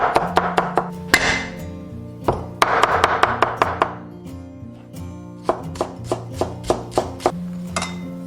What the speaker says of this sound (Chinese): 然后全部给它切成末